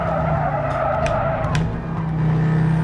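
A race car in Gran Turismo 7 drones with a steady engine note while its tyres squeal and skid through a corner, loud and continuous for a few seconds.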